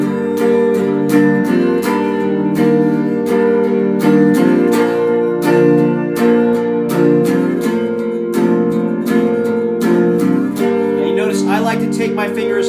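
Capo-fitted guitar strumming the simple chord part of a song, steady rhythmic strums ringing clearly on their own.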